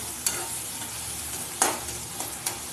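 Cabbage stir-frying in a pan with turmeric, chili powder and sugar gives a steady, moderate sizzle, with a few sharp scrapes and clatters from stirring at irregular intervals, and no voices.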